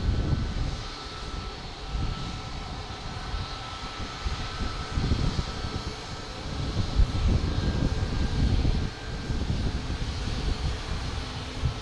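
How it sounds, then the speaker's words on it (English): Delta airliner in special 100-year livery at Logan Airport, a continuous low jet engine roar mixed with wind buffeting on the microphone, moderately distant and rising slightly in the later seconds. "There it is, a Delta Special Livery, 100 years."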